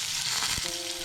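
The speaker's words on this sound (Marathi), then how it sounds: "तेल गरम झाले की त्यामध्ये मी प्रथम जिरे घालतोय" Cumin seeds hit hot oil in a pan for a vegetable pulav, giving a dense, steady crackling sizzle, close and constant, with a brief soft knock midway.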